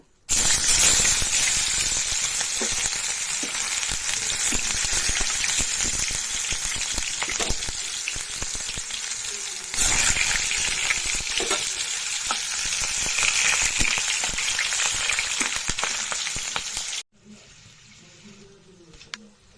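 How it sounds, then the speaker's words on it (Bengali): Potato slices for chips frying in hot oil give a loud, continuous hissing sizzle that breaks briefly midway, then drops to a quieter tail. "তেল গরম করতে দিয়ে দিয়েছি ধোয়া উঠছে আলুগুলো দিয়ে দিব"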